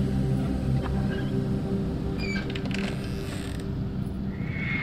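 A magic door creaks open in the horror game Until Dawn, with a steady low mechanical drone and a few faint ratcheting clicks and scrapes midway. No one speaks.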